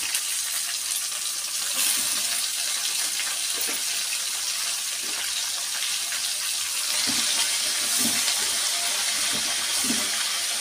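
Chopped spinach is washed under running water in a kitchen, with a steady hiss of the flowing tap and intermittent soft splashes and sloshes as the leaves are handled.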